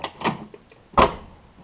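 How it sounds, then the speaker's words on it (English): Two solid thumps of a vehicle door shutting on a customized car, the second louder and closer, with a brief latch click and little else around them. "Door's still shut really nice."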